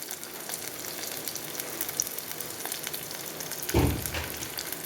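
Curry leaves go into hot oil for an amla pulissery, adding a loud, brief crackling burst near the end over a soft, constant background sizzle.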